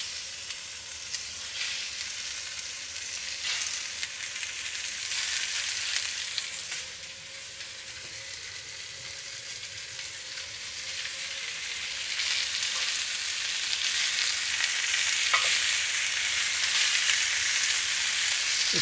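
Pork pieces sizzle and fry steadily in a hot pan, a dense continuous crackle of browning meat close up with small bursts of spatter and no voices.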